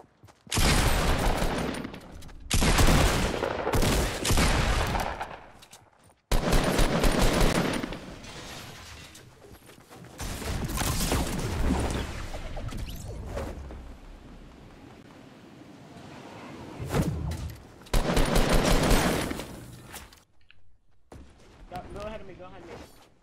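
Gunfire from the Fortnite battle royale game in bursts across the clip, mixed with loud game noise and a roaring wash, with people talking over parts of it.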